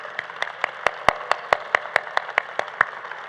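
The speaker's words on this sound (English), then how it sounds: "a big round of applause to them" Sparse applause at a pinning ceremony for radiography, sonography and surgical technology programs: roughly a dozen crisp, separate hand claps in a fairly steady rhythm, close and distinct over a quiet room, with no talking.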